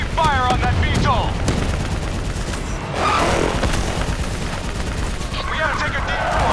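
Heavy automatic gunfire in a Call of Duty: Black Ops 3 campaign firefight against a VTOL, loud bursts and booms with shouted voices over the shooting.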